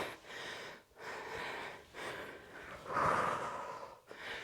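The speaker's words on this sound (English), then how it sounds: "I'm actually getting out of breath." Heavy rhythmic breathing during a dumbbell workout, with long loud inhales and exhales in slow repeated cycles close to the mic and one harder gasping breath near the end.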